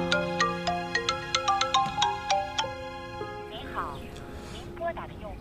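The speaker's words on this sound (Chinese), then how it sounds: "怎么一个个都不接电话呀？" A mobile phone ringtone plays a quick melodic run of bright plucked notes and then fades as it goes unanswered, and a voice speaks over the later part.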